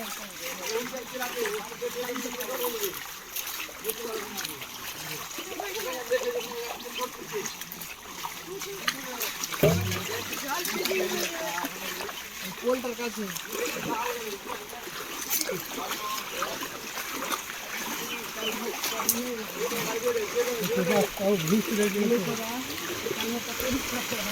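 Floodwater flows into Dakshin Chandipur Pulin Tola village along the road, a continuous rushing, splashing wash heard close by under someone talking throughout.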